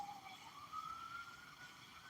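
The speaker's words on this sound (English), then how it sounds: "You hear the sirens." A faint siren wails in the distance, its pitch slowly rising and falling over a steady background hum.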